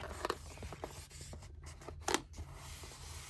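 Scissors trimming paper to size for a shadowbox, giving a few crisp close snips and light rustles at irregular intervals in a quiet room.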